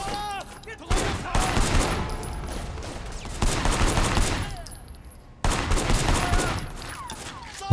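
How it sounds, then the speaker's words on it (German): Enemies firing on the player in the video game Sleeping Dogs, loud bursts of rapid automatic gunfire with short pauses between volleys, close and overlapping. "Oh, jetzt schießen die auf uns."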